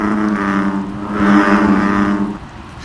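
A voice imitates a bullfrog call, a droning, buzzy low tone that swells and holds for a couple of seconds, close and fairly loud with nothing else heard.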